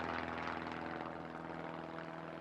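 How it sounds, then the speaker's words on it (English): A propeller search plane drones during an aerial search for a missing man, a faint steady engine hum with a constant low tone and no talk. "A plane reaches the right area within 10 minutes."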